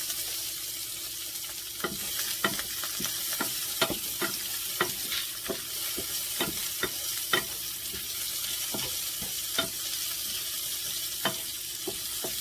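Onions frying in a pan for a chicken dish give a steady close sizzle, broken by frequent sharp taps and clinks of a utensil stirring against the pan, with no one talking.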